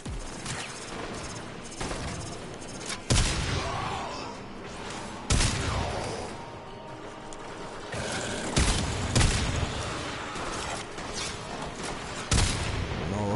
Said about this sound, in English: Such a powerful shotgun.